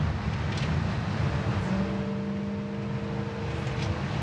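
A 1962 Chevrolet Biscayne with fuel injection cruising in overdrive, its engine a steady low droning rumble with road and wind noise inside the car, a faint whine rising midway.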